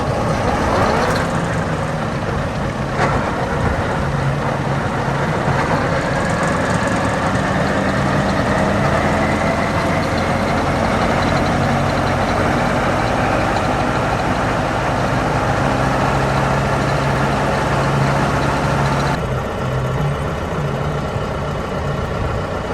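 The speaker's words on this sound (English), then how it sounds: "once the tractor warms up, we're gonna run the cutter bar for 5 to 10 minutes at PTO speed" A John Deere tractor runs a 630 MoCo cutter bar at PTO speed, a loud, steady heavy engine drone with mechanical clatter close by throughout, and no talk over it.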